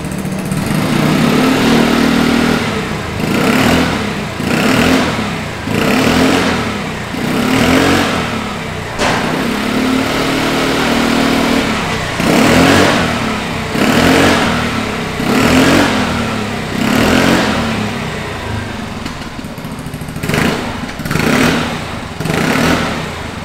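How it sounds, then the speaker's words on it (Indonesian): A Vespa Sprint 150 scooter with an aftermarket Aero exhaust revs repeatedly, each throttle blip rising into a loud raspy exhaust roar then dropping back to a rumbling idle, close by. "Sekarang saatnya kita dengar suara knalpot aero di motor ini"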